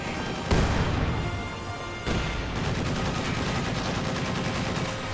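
Incendiary mortar fire and gunfire in a real-time strategy war game, with a sharp blast at about half a second and another near two seconds over dense, continuous battle noise of shots and explosions.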